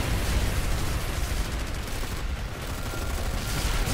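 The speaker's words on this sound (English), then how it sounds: "So much friendly fire" Dense, continuous gunfire from a shooter video game rattles without pause at moderate level, a steady wash of shots with no talking.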